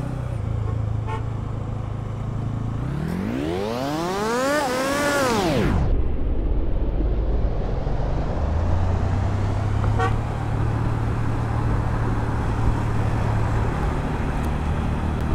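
Night traffic on the 300 Feet Purbachal Expressway heard from a moving rider: a steady road rumble, with one loud vehicle sweeping past around the middle, its pitch climbing then dropping sharply, and faint horn toots scattered behind.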